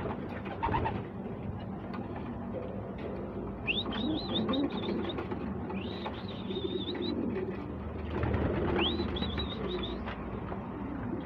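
Pet pigeons cooing close by while eating peanuts, with repeated rolling coos in a few bouts over a steady rustling background.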